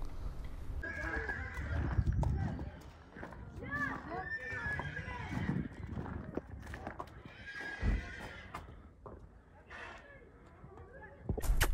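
Polish horses, a foal among them, whinny repeatedly, with clip-clop hooves on the ground nearby and people talking throughout.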